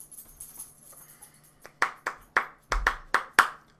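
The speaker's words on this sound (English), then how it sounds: "There's my golf clap" A slow, sparse golf clap: about seven crisp, close hand claps spaced evenly apart in a quiet podcast room, with faint background sound before them.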